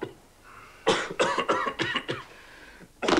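A fit of harsh coughing, several rapid coughs in a row after a short pause, then another cough at the end, close and loud.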